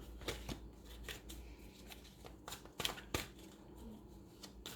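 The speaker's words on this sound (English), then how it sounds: "we're going to shuffle my little sexy note card oracle deck cards." Oracle deck note cards being shuffled by hand, a steady run of soft papery riffles and slaps with a few sharper snaps, close and fairly quiet with no talking.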